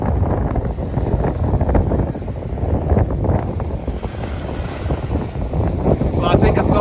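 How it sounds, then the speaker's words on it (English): Strong wind buffets the microphone on sandy Browns Bay beach at Islandmagee, a loud, continuous gusting roar with no pause. "It's quite windy as well."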